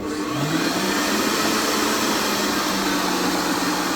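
An electric mixer whisks eggs into cookie dough with a steady, close whirring drone that runs unbroken and loud.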